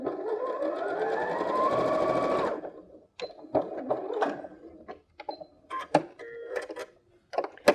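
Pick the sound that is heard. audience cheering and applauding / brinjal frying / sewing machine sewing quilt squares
sewing machine sewing quilt squares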